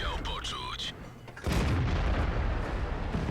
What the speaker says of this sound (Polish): strzelił KW2 i oberwał od M12